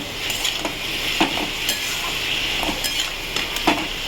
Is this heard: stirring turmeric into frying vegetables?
yes